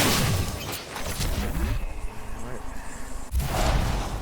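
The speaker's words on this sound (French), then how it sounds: "On me tire dessus." Bursts of gunfire crackle in a fast-paced Apex Legends match, rapid sharp shots with booming impacts coming in waves, loud and close, while a player talks over the action.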